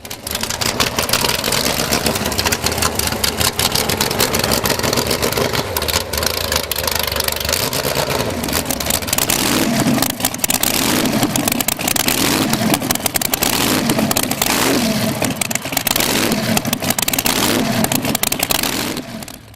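Big engines on tractors at the Tooradin tractor pull roar loudly and continuously, revving hard under a dense, noisy wash that lasts the whole stretch.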